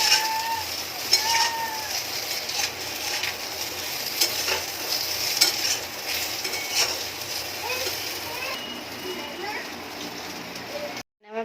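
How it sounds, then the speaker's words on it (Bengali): A pointed gourd and potato curry simmers in a pan, giving a soft, steady bubbling and spattering hiss with scattered small pops. Background voices and clatter run faintly underneath, and the sound cuts off abruptly at the end. "আমার পটল আলুটা ফুটছে"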